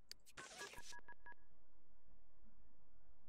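In-game phone dialing from The Sims 2: a quick burst of touch-tone beeps, then a few distinct dial tones spaced out, clear and close, followed by a quiet room hum.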